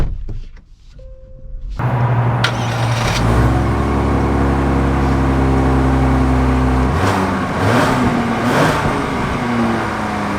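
A 2025 Genesis GV70 3.5T comes to life after a quiet moment and pulls away, its engine settling into a loud, steady, humming drone with a slight rise in pitch.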